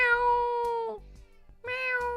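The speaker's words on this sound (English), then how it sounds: "Just a disruptive cat is what I have" A cat lets out two loud, close meows, the first drawn out and sliding downward, the second starting after a short pause, with no talking over them.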